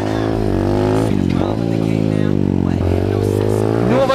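A motorcycle ridden along a slippery grassy forest trail, its engine loud and close, revving up and down in repeated surges with a rough clattering edge.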